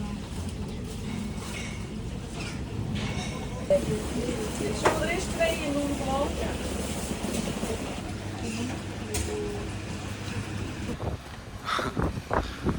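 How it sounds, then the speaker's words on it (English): Gusty wind rumbles against the microphone while people talk intermittently in the background, with occasional louder buffeting bursts, in the Netherlands. "it is extremely windy right now."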